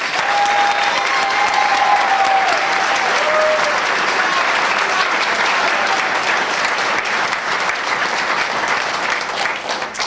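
A large audience gives sustained applause for new fire recruits at a joint fire school graduation ceremony, loud and even for about ten seconds, with a faint tone and murmurs under the clapping.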